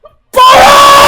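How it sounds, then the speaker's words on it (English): A person lets out a sudden, loud, sustained scream that bursts in after a brief quiet moment and holds at full strength, close and harsh. "I'm about to scream"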